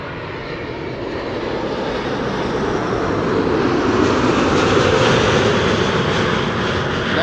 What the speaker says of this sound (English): This is KLM Flight 636 arriving from Las Vegas. It is a 777-200